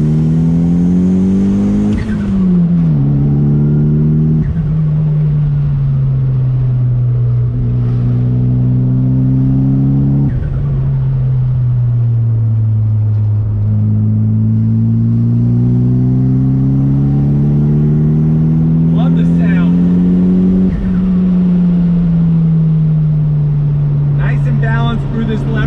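A 1997 Mitsubishi Eclipse GSX engine drones loudly and steadily, its pitch rising and falling through gear changes as it pulls on throttle, with brief tire and road noise over a constant close-up engine roar.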